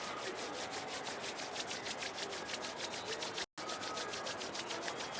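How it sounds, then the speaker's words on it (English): Palms rubbing together during a live yoga class, a steady, continuous dry friction swish close to the microphone, lasting several seconds with only a brief gap near the end. "gently rub your palms"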